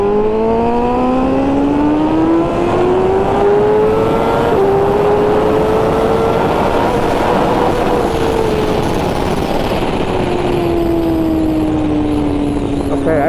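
A 2021 BMW M1000RR with a flashed ECU accelerates hard from 60 to 130 mph, its engine note climbing steadily through the gears with brief dips at each shift, loud and close throughout.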